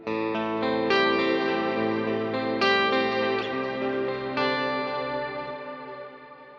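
An electric guitar through a Quad Cortex plays sustained chords with an octave effect at 50%, adding a deep doubled low end, ringing out and slowly fading.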